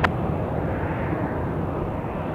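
An airliner powers up for takeoff on runway 28 right at Chicago O'Hare, a steady, loud broadband jet engine roar that holds evenly throughout with no talking.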